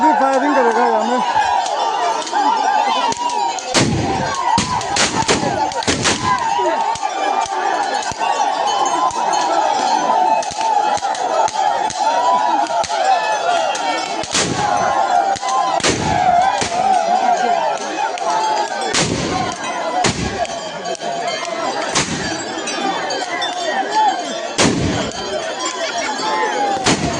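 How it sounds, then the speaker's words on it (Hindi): Gunfire at the Wancho Oriah festival in Arunachal Pradesh: sharp cracking shots fire singly and in short bursts across the clip over a steady crowd din and talk. "अभी फायरिंग करेगा यहाँ में।"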